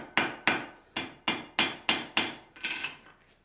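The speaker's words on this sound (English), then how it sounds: "as I hammer down on that" Blacksmith hammering a forged steel letter opener, seven sharp metallic blows at an even rhythm, close and loud, the last strike softer and ringing.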